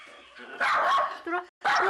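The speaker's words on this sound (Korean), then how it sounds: "문제는 수강생들에게도 한없이 짖는다는 것인데요." A pet schnauzer barks at visitors indoors, a close, loud run of sharp, excited barks with a brief pause before a final burst.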